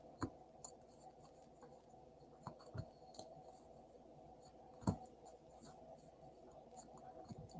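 Tarot cards being shuffled and handled: soft papery rustles and scattered light snaps and taps, close but quiet, with long gaps between them and no talking.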